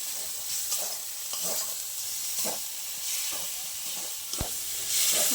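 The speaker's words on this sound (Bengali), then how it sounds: "মশলাটা ভালো ভাজা হয়ে গেছে, তেল ছেড়ে দিয়েছে চারিদিক দিয়ে দেখুন।" Spice paste sizzles and fries in hot oil for a spinach paneer (palong paneer) dish, a steady hiss with a few stirring scrapes and clinks, close and moderately loud, with no talking.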